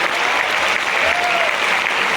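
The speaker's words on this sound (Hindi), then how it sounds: "एक बार जोरदार तालियां बजाने के लिए।" Steady, dense applause from a large audience at an event at IIT Roorkee, loud and continuous through the whole stretch.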